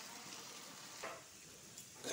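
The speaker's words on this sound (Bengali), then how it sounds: "আলুটা ভাজা হইতে হইতে এখন পুস্তাটা পাটাতে বেটে আনব।" Potato pieces fry in oil with a little turmeric, a quiet, steady sizzle with a few faint stirring scrapes.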